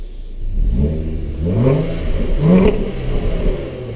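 A 2016 Jaguar XE S with a supercharged 250 kW V6 revs from inside the cabin. The muted engine note rises and falls through a few throttle blips, and no voices are heard.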